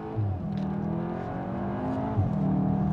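A Cupra Formentor VZ2 drives on a hot day, its engine a steady low drone with tyre and road roar, rising in pitch as it accelerates near the start and again after a brief dip.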